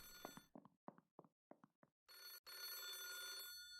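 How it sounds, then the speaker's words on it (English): Telephone ringing in a video game, a short series of six quick chirping rings followed by a longer sustained electronic ring tone, clear and close with no talk. "Ah, that's the phone ringing."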